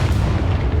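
A single loud, deep Bombarda spell explosion erupts in Hogwarts Legacy, a short booming blast that fills the moment.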